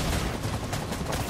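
Gunfire in the video game Death Stranding crackles as a dense, noisy burst of rapid shots, fairly faint and continuous through the short stretch.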